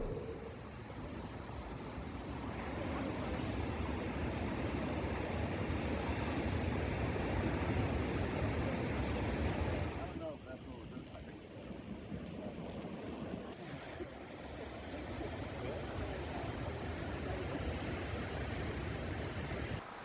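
Pacific Ocean surf rolls onto a Central Coast beach in a continuous, rushing wash, swelling and easing with gusts of wind buffeting the microphone, no voices present.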